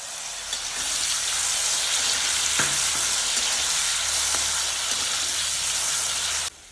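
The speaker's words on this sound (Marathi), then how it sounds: "एखाद मिनिटच तळायची." Two small bananas frying in ghee: a loud, continuous hiss and crackle holds steady for several seconds, broken by a couple of faint clicks, then cuts off abruptly near the end.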